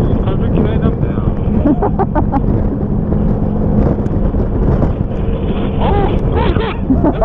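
Strong gusty wind buffeting the microphone outdoors on a motorcycle outing, a loud continuous rumble with people talking over it.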